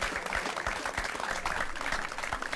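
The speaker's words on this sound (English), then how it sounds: "you get a huge round of applause" A round of applause, steady dense clapping from a crowd that holds at an even moderate level and sounds slightly distant, with no voices over it.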